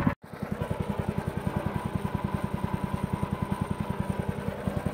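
A homemade pit bike engine runs steadily off choke at close range, its fast, even exhaust pulses thumping in a rapid regular rhythm for several seconds with no talk.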